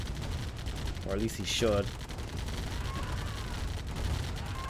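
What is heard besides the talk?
gunfire in a strategy video game match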